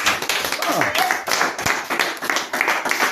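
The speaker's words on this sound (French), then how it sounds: "Acclamons donc le Seigneur Jésus" A church congregation claps and applauds in quick irregular bursts, fairly loud and close, with voices speaking over the clapping.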